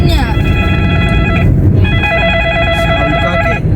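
A phone ringtone chimes in repeated electronic bursts inside a moving car, pausing briefly before ringing again, over steady engine rumble and road noise.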